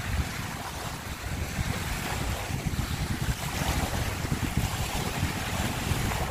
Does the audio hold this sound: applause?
no